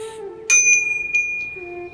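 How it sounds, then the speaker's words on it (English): Two decorative bells hung in a newly designed home interior with Indian and contemporary styling ring out in a bright, clear strike followed by a second softer tap, their pure tones sustaining and slowly fading over quiet room ambience. "these two bells we have hung here"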